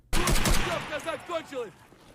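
An old AK rifle in Escape from Tarkov fires a loud burst of shots, followed by echoing tails that fade over about a second.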